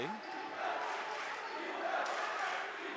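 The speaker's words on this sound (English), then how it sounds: "Chelmsford's crowd starting to get into it a little bit" A home high school boys basketball crowd in a gym is cheering and shouting at a game. It is a steady, reverberant roar of many voices, moderately loud, with a few louder swells and no clear single voice.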